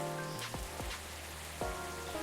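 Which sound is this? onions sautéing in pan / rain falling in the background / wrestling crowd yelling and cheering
rain falling in the background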